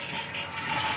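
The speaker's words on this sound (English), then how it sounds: "when I flush the toilet" A household toilet flushes with a steady rushing roar, close and loud, in a bathroom where a Kohler shower valve is being repaired.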